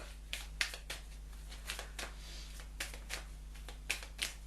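Quiet, intermittent papery riffles and flicks of cards being shuffled, close by, in short bursts with pauses between, over a steady low hum.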